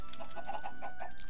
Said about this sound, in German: Töte noch kurz hier Hühner.